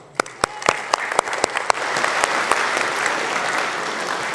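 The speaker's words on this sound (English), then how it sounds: "Let's give him a big applause." A few sharp, separate claps open at an event with high school students, then a full audience applause swells and holds steady and fairly loud to the end.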